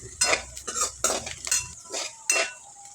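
A utensil stirs asafoetida and curry leaves in a pan of hot oil for a bitter gourd dish, scraping and clinking in several distinct strokes over a faint sizzle, close and fairly loud, with no talk.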